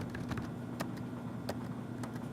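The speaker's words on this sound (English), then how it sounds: "and start typing some stuff." Scattered keystrokes on a computer keyboard, a few distinct soft clicks spaced irregularly over a faint steady background hum, quiet and close.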